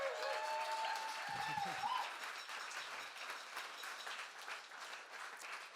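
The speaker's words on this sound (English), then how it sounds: "With Gregory Woods, another round of applause, please." Audience applause at a poetry festival in Nottingham, a dense broadband clapping that runs steadily throughout, with a speaker's voice briefly heard over it early on.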